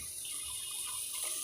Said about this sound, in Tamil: ஃபஸ்ட்டு தண்ணி கீழே ஊற்றிட்டேன்.